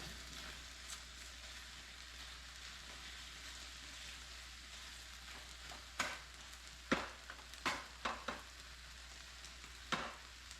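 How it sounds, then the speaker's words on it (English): An egg cracked into seed oil is stirred and frying in a pan, with a steady, soft sizzle throughout and several quick utensil scrapes and taps against the pan near the end. "Let this stir up. Incorporate the egg."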